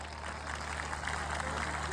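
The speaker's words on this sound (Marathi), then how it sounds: "एकदा टाळ्या वाजवा त्यांच्यासाठी" An audience claps at a Home Minister stage show held for a birthday celebration in Sangola. The dense, steady applause is close and fills the whole short moment.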